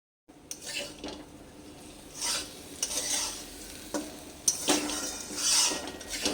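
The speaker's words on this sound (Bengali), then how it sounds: "এবার একটু নাড়াচাড়া করে নিলাম এদিকে পাঁচ মিনিট মতো চালটা ভাজতে হবে" Rice sizzles as it fries in a pan for sweet pulao while a spoon scrapes and stirs it in repeated strokes, with soft clinks against the metal.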